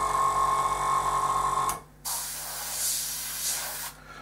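An airbrush sprays coats of paint onto a MiG-23 scale model. One steady hiss stops after a moment, then a second burst runs for about two seconds, close and fairly loud, with no talking.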